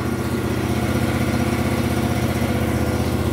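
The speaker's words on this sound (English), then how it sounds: "I'm about to mow the grass real quick with this new Ferris z3x 52 inch 37 horsepower Vanguard engine." A new Ferris Z3X zero-turn mower with a 52-inch deck and a 37 hp Vanguard engine runs steadily nearby, a loud, constant engine drone with no speech.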